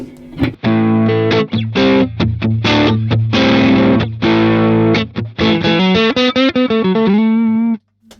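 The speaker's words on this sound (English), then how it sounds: "You can get some really nice sort of warm, crunchy tones out of it." Crunchy, distorted electric guitar through a 1970s H|H transistor amplifier plays a rapid run of chords and single notes, loud and close, ending in a brief pause.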